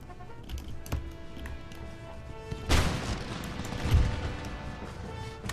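Musket volley gunfire from the Empire Total War video game, heard as a loud crashing burst of massed shots in the middle, followed by another thump, over a steady battle ambience.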